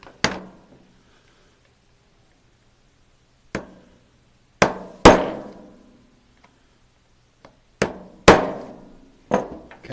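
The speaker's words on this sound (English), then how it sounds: "take my small punch and I'm going to go right in here and I'm going to malform that steel just a little bit on both sides here" Sharp metal-on-metal hammer strikes on a small punch, staking the steel beside a castle nut on an AR rifle build: single blows and quick pairs spaced irregularly across the span, close and loud with ringing decay, no talk.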